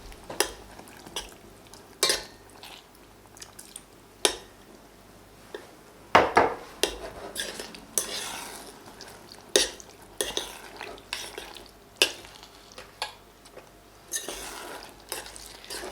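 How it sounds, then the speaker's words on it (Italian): A spoon stirs starch into boiling sour cherries in a small bowl, with repeated scraping and clinking strokes against the bowl at a steady rhythm over a low simmering bubble, close and clear with no talk. "Lo verso a filo nelle amarene e mescolo per non farlo attaccare al fondo"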